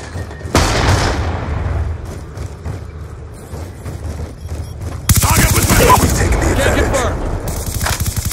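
Call of Duty Black Ops 2 team deathmatch: loud, dense gunfire and booming explosions, including a grenade blast, with heavy rapid fire surging midway and voices shouting over the battle.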